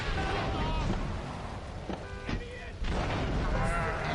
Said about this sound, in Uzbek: Ko'ryapsizlarmi? Navbat portlashyapti.